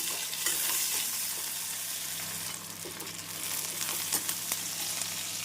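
Onion, garlic and green chili with curry leaves sauté in a hot pan for dried anchovy thokku, giving a steady soft sizzle with occasional stirring scrapes throughout.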